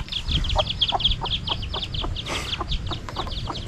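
Chickens clucking steadily in a rapid, repeated pattern, fairly close, with a brief rush of noise partway through and no talking.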